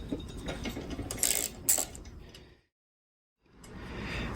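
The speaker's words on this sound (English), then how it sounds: "we're going to take out this little 10mm bolt on the left" A small 10mm bolt being backed out on a Beaver Dam Mud Runner mud motor with a Predator 212 engine, heard as a few short metallic ratchet clicks and clinks up close, then a brief silence and some handling noise.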